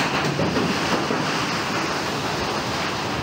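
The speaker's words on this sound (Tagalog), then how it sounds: "Sa Lucena pa rin makikita ang malakas na hampas ng hangin sa mga puno sa resort na ito" Strong typhoon winds from Typhoon Aghon batter trees at a resort in Lucena, Quezon: a loud, unbroken roar of wind and rushing leaves, with no voices.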